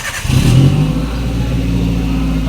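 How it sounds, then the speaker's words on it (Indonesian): A car engine cranks and catches, then rises in a short rev before settling into a steady, close idle, started with the brake pedal pressed during a brake and brake booster check after fitting the battery. "lalu hidupkan mesin"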